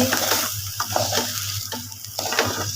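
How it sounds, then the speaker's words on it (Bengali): Onions frying in oil and being stirred, with a close, loud crackling sizzle broken by repeated scraping strokes of a spoon against the pan. "প্রথমে পেঁয়াজটা সুন্দর করে লাল করে ভেজে নিয়েছি"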